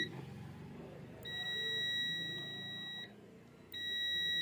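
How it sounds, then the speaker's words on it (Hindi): Multimeter continuity buzzer sounds when its probes are touched together, giving two steady, fairly loud tones separated by a short gap, heard alone over faint background hum. "जैसे ही हम इसकी प्रोब को शॉर्ट करेंगे तो आपको बज़र सुनाई देगी।"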